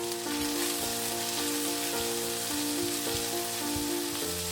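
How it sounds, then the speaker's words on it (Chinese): Chicken pieces with garlic slices stir-fry over medium heat in a wok, giving a steady close sizzle with light scraping under a sustained tonal background. "中火煸炒至鸡肉上色， 然后加入蒜片"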